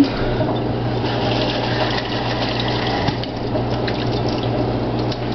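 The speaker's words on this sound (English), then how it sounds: "make sure that you get all the water out" Water squeezed and wrung out of a wet makeup brush during cleaning, a steady close liquid gushing and dripping with a constant low hum underneath, continuous throughout.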